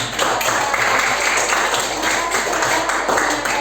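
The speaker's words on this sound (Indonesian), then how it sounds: "tepuk tangan dulu buat" Students in an Indonesian classroom applaud after a biology lesson summary, a dense steady patter of clapping filling the room without pause, fairly loud and even throughout.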